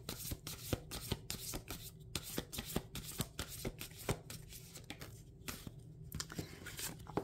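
Tarot cards being shuffled by hand, a rapid run of crisp flicking and riffling taps repeating close to the microphone, quiet and steady throughout.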